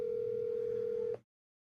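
A single steady telephone tone sounds on a call to a cell number that may be wrong, holding evenly for about a second before cutting off into silence.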